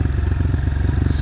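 A Honda CRF125F dirt bike, a 2026 model, runs loud and close on a snowy trail, its engine throbbing in a steady rapid pulse with a little mechanical clatter.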